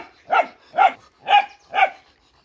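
A Malinois puppy barks four times in an even rhythm, close and loud, each bark short and sharp with brief silence between.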